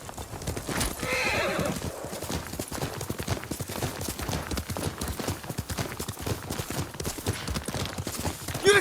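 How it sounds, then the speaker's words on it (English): A horse in the Ghost of Tsushima video game neighs loudly near the start, then its hooves clop in a steady, close rhythm through the rest of the clip. "Yuriko's horse. She can't be far."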